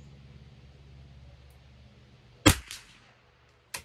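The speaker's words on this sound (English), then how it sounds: "And the fourth shot." A single sharp, loud crack from a CZ 457 LRP rifle with an IBI barrel firing RWS Special Match ammunition at a 50-yard range, followed by a short echo and a later faint click.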